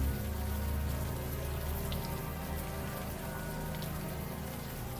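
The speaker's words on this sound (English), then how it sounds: "the warm rain is coming down" Warm rain pours steadily in the video game Unavowed, a dense, even patter of drops striking surfaces that holds at a constant level throughout, with no voices.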